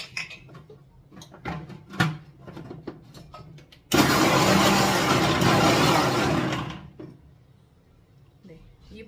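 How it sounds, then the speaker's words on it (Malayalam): A kitchen mixer grinder pulses onion, green chili, ginger and curry leaves for Kerala chicken curry: one loud, whirring burst of about three seconds, preceded by clicks and handling noises and a speaking voice. "ഇത്രയും മിക്സിയിലൊന്ന് ഒതുക്കിയെടുക്കാം."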